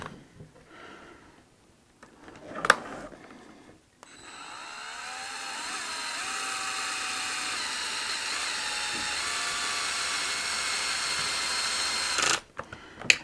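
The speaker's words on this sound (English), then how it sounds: "If not, I'll just throw it on the torque wrench here." Power torque driver turning screws slowly into a plastic lower arm of a Traxxas X-Maxx RC truck, a sustained steady whir for about eight seconds after a few handling clicks, close and alone.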